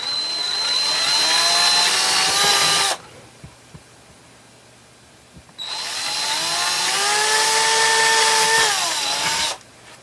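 A power drill boring screw holes for an IKEA monitor stand build, two long loud whining runs with a steady motor pitch and a few seconds of near silence between them.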